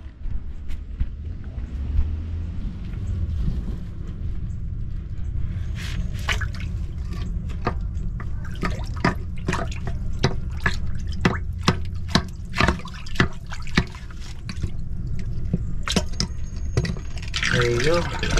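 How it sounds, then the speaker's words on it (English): Water backs up out of a clogged drain vent and fills a pit, making a steady splashing gush with many sharp drips and trickles, close and continuous for the whole stretch, while a person talks over it. "So it's coming out of the vent and filling inside the pit here."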